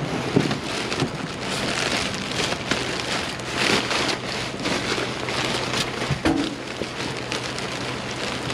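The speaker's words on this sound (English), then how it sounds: "Raindrops already." Steady rain patters on surfaces outdoors, a dense continuous hiss of raindrops with a few louder individual drops, moderately loud and with no talking.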